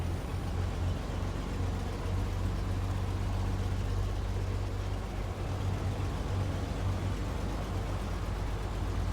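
A SnowRunner truck or scout vehicle churns through snow in the video game, its engine a steady low labouring drone with dense broadband noise, continuous and moderately loud with no speech.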